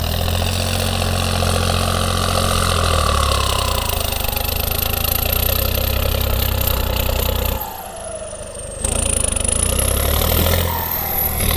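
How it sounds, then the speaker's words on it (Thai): A three-cylinder, 50-horsepower turbocharged tractor engine idles steadily with a low, throbbing rumble, loud and close, dipping briefly as if throttled down before settling back. "ตัวนี้ก็เป็นเครื่องสามสูบนะครับ"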